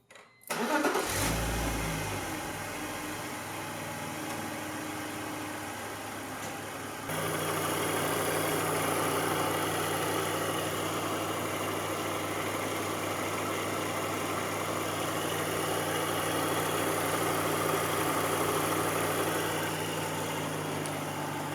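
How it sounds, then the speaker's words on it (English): A newly fitted radiator fan runs on a BMW E46 wagon with the engine started and idling, giving a steady, loud whooshing roar that steps up and grows stronger partway through, with no talking. "let's test this new fan to make sure that it works."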